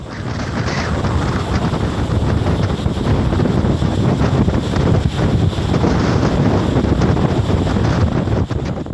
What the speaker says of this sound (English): The wind was so strong, it kept the tide from coming up onto the beach.